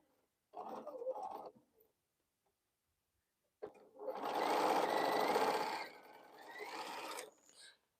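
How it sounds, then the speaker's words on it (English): A quilting sewing machine stitching fabric pieces together for flying geese blocks, running in two close bursts, a short run and then a longer steady one, separated by near silence. "I'm just sewing them together."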